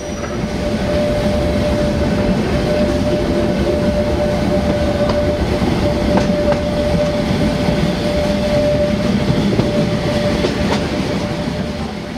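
Selketalbahn narrow-gauge locomotive labouring uphill toward a summit, a loud steady rumble of train running with a faint sustained wheel squeal over the rolling drone, no voices.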